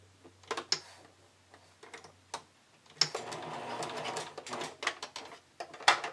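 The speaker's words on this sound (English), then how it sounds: "I'm just gonna use a zigzag stitch to stitch that in place" A sewing machine zigzag stitching elastic onto a fabric strip for a bikini strap, with short start-stop bursts of rapid needle ticking before a longer continuous run, close and clear.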